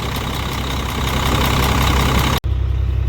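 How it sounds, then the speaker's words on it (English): An ISM diesel truck engine idles steadily and close by while warming up after water pump work, a low rumbling drone with a brief dropout near the end. "Letting it run and go up to temp right now."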